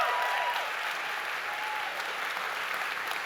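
An audience at a high school spring concert applauds steadily, a dense wash of clapping that holds for several seconds with faint crowd murmur and no clear speech.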